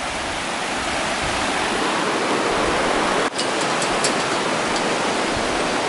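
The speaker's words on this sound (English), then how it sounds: "There's the river." A river rushes steadily below a bridge on the route to the Arecibo radio telescope, a constant dense roar of flowing water with a brief knock partway through.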